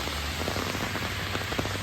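Steady rain pattering on a surface at a US beach, a dense, even hiss of drops with scattered louder taps over the short stretch, no voices.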